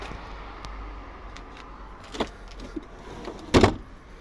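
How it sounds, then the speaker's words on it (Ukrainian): A car's power tailgate opens: a quiet electric motor whirs steadily, followed by a few mechanical clicks and a louder thud near the end. "багажник, бачите, як відкривається"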